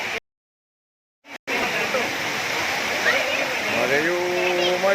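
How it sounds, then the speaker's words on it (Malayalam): Heavy rain pours at Peechi Dam as a loud, continuous rushing hiss after a brief silent gap at the start, with faint tonal sweeps of a passing vehicle or voice near the end. "ശക്തി കൂടി വരികയാണ് മഴയുടെ."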